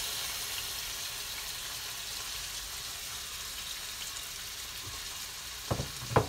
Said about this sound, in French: maintenant que l'huile est chaude, je rajoute les carottes dans mon huile